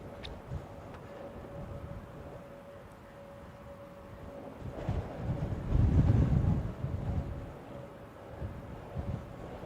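Gusty southerly wind buffets an exposed spot at Wellington Airport, a steady low roar with a stronger gust swelling around the middle, a faint steady hum running underneath.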